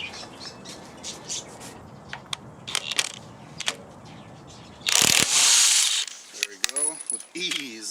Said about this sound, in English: So now we have to remove the 19mm from the pulley.